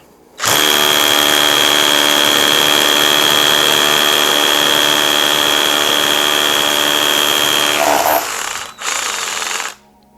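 A Vitals Master ARa 1618-2P cordless rotary hammer drills loudly and steadily for several seconds, then stops, followed by a short final burst.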